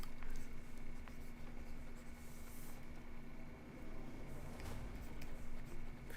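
Pencil scratching across paper while sketching Final Fantasy fanart, a soft, close, continuous scraping with faint strokes and taps throughout, quiet overall.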